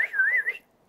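A human voice imitates a dolphin whistle with a single short, wavering high-pitched whistle that rises and falls for about half a second before cutting off into near silence.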